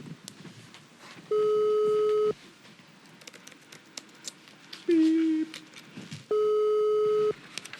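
Telephone call tones while phoning a friend: three long, loud steady beeps repeat at regular intervals over about eight seconds, with quiet background rustle and faint voices between them.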